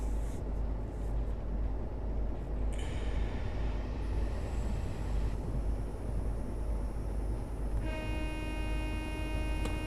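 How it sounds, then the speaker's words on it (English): A train passes in the Train Simulator 2018 video game, a steady loud rumble of rolling wagons throughout, with tonal horn-like bands entering near the end and no talk. "Say hello to the passing train."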